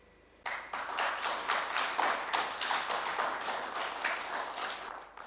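Audience applause at a Kenya investment learning event, a steady burst of many hands clapping that starts abruptly and stays fairly even before tapering slightly near the end.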